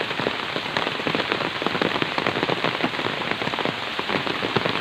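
Heavy rain pouring onto a waterlogged field in Jhenaidah where geese are bathing, a dense, unbroken patter of drops splashing on water, loud and close throughout.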